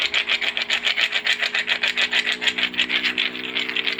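Slate stones rubbed flat against each other with primitive tools, a steady rhythmic rasping scrape repeating about four times a second, close and continuous with no talk.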